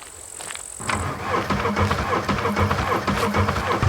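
A stolen vehicle in the video game SCUM revving and driving off, a loud close engine roar that rises after a brief quiet start and then throbs steadily.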